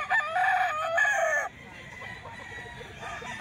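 Rooster crowing once, close and loud, in a drawn-out two-part call that fades into quiet rustling background.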